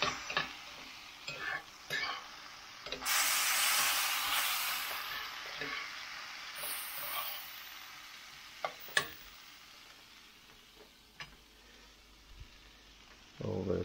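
Chanterelle mushrooms with fresh thyme sautéing in a pan, a steady sizzle broken by scraping stirs and a few sharp utensil knocks against the pan, loudest in a burst of frying near the start.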